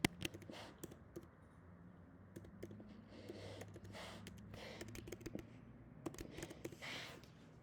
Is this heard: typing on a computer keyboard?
yes